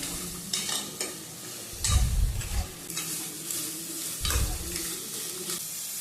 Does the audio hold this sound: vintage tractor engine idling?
no